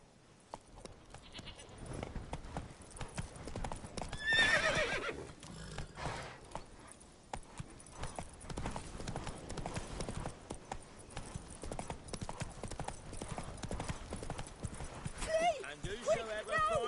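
A horse gallops in The Witcher 3, a steady rhythmic clip-clop of hooves continuing throughout, with a whinny partway through and voices speaking over it.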